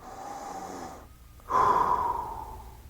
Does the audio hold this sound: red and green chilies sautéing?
no